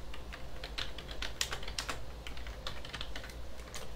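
Someone types a name for a CAD sketch on a computer keyboard, with quiet, irregular clicking keystrokes over a low, steady background hum.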